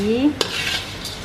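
Dried chillies dry-roasting in a pan, with a brief scrape and clink of the stirring utensil over a soft background hiss, heard close and alone.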